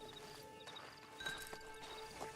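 Horse hooves clip-clop at a steady walking pace in the Red Dead Online beta game, fairly quiet beneath a constant hum of background music and ambience, with a few louder hoof strikes standing out.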